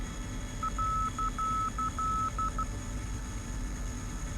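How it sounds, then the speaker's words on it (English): A steady mid-pitched outer marker beacon tone beeps in a run of dashes over a constant MiG-21bis engine drone in the DCS flight simulator, then stops, leaving only the hum. "Sounds like the outer marker."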